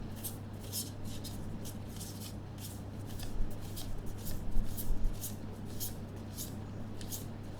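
Tarot cards being shuffled and handled, a steady run of soft riffling flicks and slides that rises briefly in the middle, set against a low constant hum with no talking.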